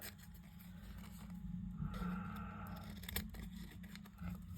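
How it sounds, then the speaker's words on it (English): Scissors trim the edge off a paper greeting card, a close, quiet crisp snipping and rasping cut lasting a couple of seconds, followed by light paper handling. "just cut this edge off."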